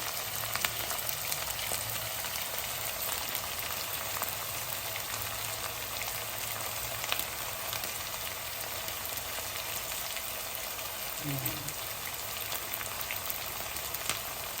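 Curry leaves fry in hot oil in a home kitchen, a continuous even sizzle and crackle that holds steady throughout with no voices.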